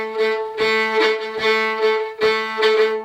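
Fiddle backup for a reel in a major key, bowing sustained double-stop chords in a quarter-note, two-eighth-note rhythm; repeated strokes sound close and fairly loud, with no voices.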